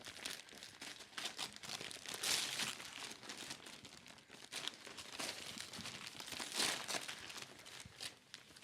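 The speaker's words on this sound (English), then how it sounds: "I'll hold it here so people can hear you are actually unwrapping." Gift wrapping is torn and crinkled as a present is unwrapped, a continuous close rustle of paper rising and falling with no talk.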